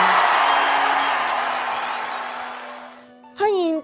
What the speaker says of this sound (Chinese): 给你一个欢呼声！